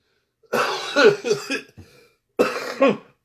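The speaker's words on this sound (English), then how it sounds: "I had to start coughing." Several harsh coughs in a quick burst, a short pause, then another pair of coughs, close and loud with no talking.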